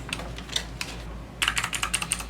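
An AUKEY mechanical gaming keyboard with RGB backlighting is typed on up close, with a few spaced clicks and then a rapid run of crisp keystrokes over a steady low hum.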